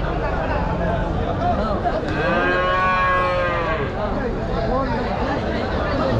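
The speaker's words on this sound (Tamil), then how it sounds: "ஃபுல் அண்ட் ஃபுல் கறவை மாடுங்கள்லாம் ஃபுல்லாக இந்த பக்கம் இருக்கும்." Cattle low repeatedly in a crowded rural cattle market in Poigai, where dairy cows and native Jersey breeds are gathered, the long moos rising clearly over a steady hubbub of distant voices and crowd noise.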